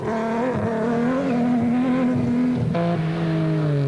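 Rally race cars, led by a 3.5-litre V6 Nissan Hardbody, roar along a race course, engines droning loud and steady with a pitch drop as one passes, no voices.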